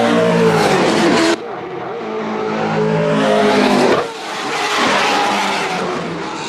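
A little race car's engine in a racing simulator game revs and drops between gear changes, loud and up close, with tires squealing and skidding along the way.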